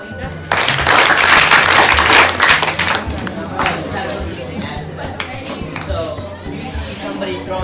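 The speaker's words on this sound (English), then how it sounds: "So clap for you." Applause from an audience at an event about changing littering behavior, a dense wash of clapping that swells suddenly and then tapers, with speech over it.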